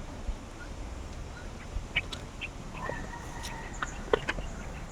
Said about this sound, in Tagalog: Alaga kong bibe.